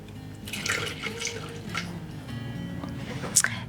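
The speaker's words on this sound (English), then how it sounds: "Now we're going to add some milk." Milk pours into a Thermomix bowl over heated sugar and oil, a soft continuous liquid trickle with faint drips, close by and fairly quiet, ending in a brief bright clink.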